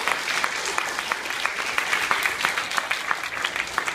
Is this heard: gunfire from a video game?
no